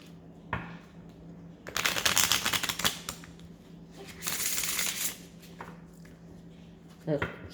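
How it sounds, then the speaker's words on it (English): Close, crisp shuffling of a deck of oracle cards, two longer bursts of rapid riffling separated by brief pauses, with a few soft taps at the start and end. "Okay, one more shuffle."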